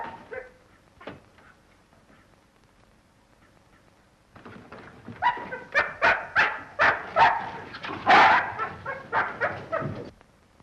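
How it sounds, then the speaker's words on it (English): An injured dog whimpers softly at first, then breaks into a run of loud, close yelping barks in a steady, rapid rhythm. "This dog's been struck a nasty blow"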